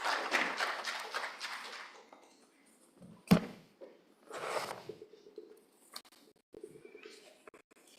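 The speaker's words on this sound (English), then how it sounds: "Let's give them a warm round of applause." Applause from a conference audience at the African Economic Conference, a brief burst of clapping that fades within a couple of seconds, followed by scattered taps, knocks and quiet room noise.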